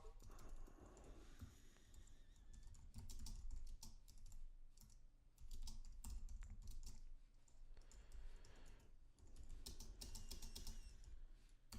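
Steady typing on a computer keyboard while writing code, quiet close key clicks coming in rapid bursts with short pauses between runs.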